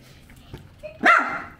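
A dog barks at its own reflection in a mirror, giving one loud, close bark with a whimpering edge after a few small sounds, and no talk.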